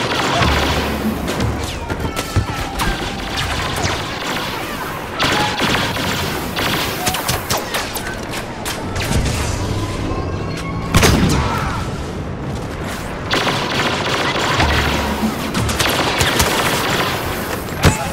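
Star Wars Battlefront combat rages with dense, rapid blaster fire, loud booms and explosions in bursts, continuous and intense throughout, with occasional voices mixed in.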